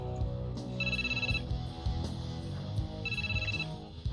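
A telephone rings twice in a tense scene of a Hindi-dubbed Hollywood action movie, with short electronic bursts over a dense, steady music score.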